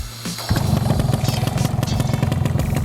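A Yamaha Alfa II R motorcycle engine fires up after a brief starter crank, then settles into a steady, close, loud idle with a rhythmic mechanical clatter.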